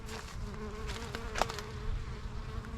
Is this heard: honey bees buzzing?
yes